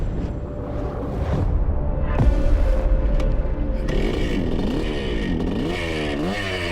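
A first-generation 1970s Honda CR125 Elsinore two-stroke dirt bike being ridden, its engine rising and falling in repeated revving sweeps with clatter and scraping, loud and close, no talking.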